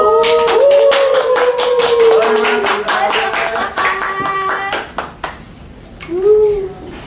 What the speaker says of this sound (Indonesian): tepuk tangan semuanya teman-teman